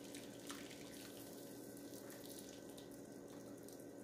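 Water pours into a roast pot holding a piece of meat in a steady, continuous splashing stream that stays even from start to finish, faint and close.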